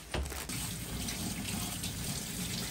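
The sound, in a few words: water running from a tap while a child washes hands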